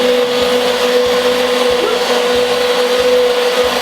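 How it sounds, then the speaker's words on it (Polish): A kitchen blender runs steadily and loudly the whole time, whipping a strawberry cake mixture into foam, with a constant motor whine and rhythmic low pulsing throughout. "jak nie macie mikserów, macie blender, patrzcie też wychodzi piana"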